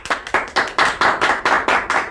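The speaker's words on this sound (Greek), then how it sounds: "Οι περαστικοί χειροκροτούν στο τέλος του κομματιού." Passers-by clap at the end of a piece of music, a steady burst of many hands applauding together in a lively, rhythmic wave, close and fairly loud with no talk.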